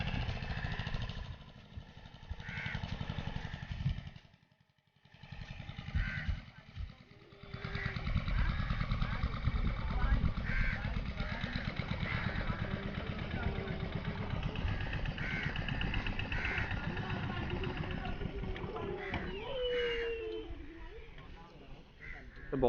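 A boat engine on Chilika lake drones steadily at medium loudness, briefly dropping away, while crows caw and voices murmur in the background.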